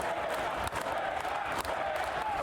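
A crowd applauds and cheers for a retiring NYPD Deputy Inspector, a Bronx precinct commander, as a steady, dense wash of clapping and voices holds throughout.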